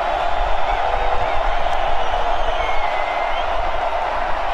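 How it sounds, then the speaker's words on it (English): A large football crowd roars at Ross-Ade Stadium during a Bowling Green at Purdue game, a loud, sustained wash of cheering and noise held steady throughout, with a commentator's voice faintly blended in. "Rossade Stadium crowd making some noise."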